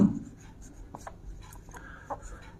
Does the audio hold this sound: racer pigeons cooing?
no